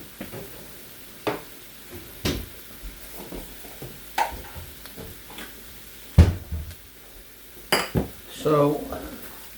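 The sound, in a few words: shrimp cooking in a pan with gravy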